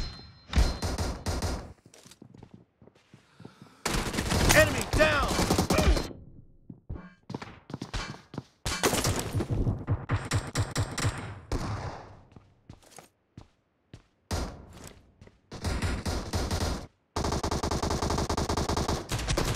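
Automatic gunfire from the battle-royale video game PUBG, with loud, close bursts of rapid shots separated by short pauses and several sustained volleys, all without talk.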